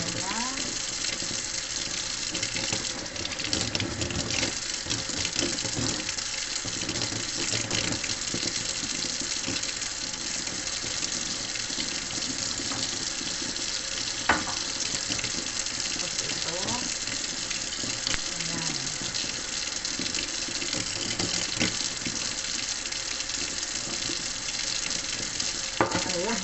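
Malunggay (moringa) leaves being rinsed under a running kitchen tap, a steady gush of water splashing continuously into a sink with faint handling of the leaves throughout.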